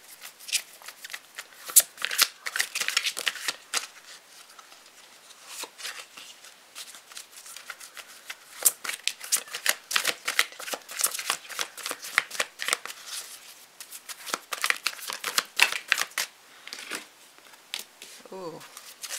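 Tarot cards are shuffled steadily and close by for nearly twenty seconds, a dense run of papery flicks and riffles that swells and eases in bursts, with a voice making brief sounds near the end.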